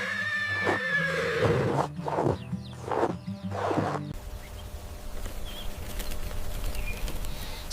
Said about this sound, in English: This is a medium black farm pony.